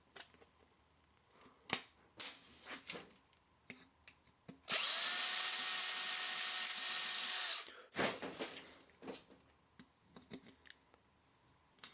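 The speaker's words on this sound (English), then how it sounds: "Then we drill a hole into the other part." A power drill whirs loudly and steadily for about three seconds, drilling a screw hole in a part for a keyboard backlight, with scattered clicks, taps and light handling noises before and after.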